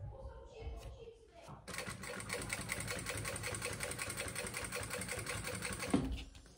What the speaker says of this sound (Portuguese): Tô costurando tudo aqui com ponto 5, tá?